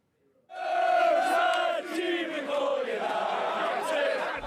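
A packed football crowd roars at St James's Park, Newcastle, a loud sustained wall of cheering and chanting that bursts in after a brief quiet start and holds steady throughout.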